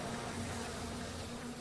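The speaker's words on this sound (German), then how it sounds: "Alles voll mit Bienen hier" A swarm of bees buzzes in BioShock Remastered, a steady, even drone that holds at a constant pitch throughout with no voices over it.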